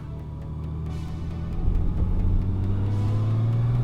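A 2018 Honda Goldwing Tour DCT with a 1833 cc boxer six-cylinder engine cruises at low RPM, giving a steady, smooth drone. Midway the engine note deepens and swells slightly as the gearbox shifts seamlessly.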